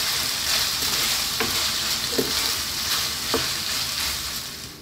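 Pork in oyster sauce sizzles steadily in a hot pan while being stir-fried, with a few sharp scrapes and clicks of the spatula against the pan breaking through the continuous frying hiss.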